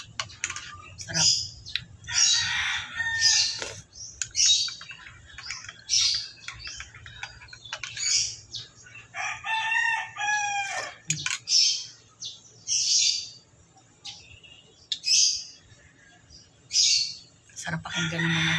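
Birds chirping and calling outdoors among trees, with one longer rooster-like call near the middle, clear bursts of tweets scattered over a quiet, low hum background.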